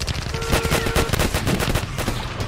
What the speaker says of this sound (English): We also do have a minigun, guys, too.